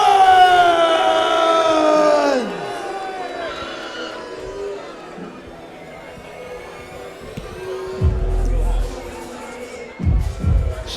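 A crowd at a Total Kombat fight event reacts to a fighter's entrance. The noise is a loud, mixed roar of jeers and shouting with whistles, and an announcer's amplified voice rings over it at first.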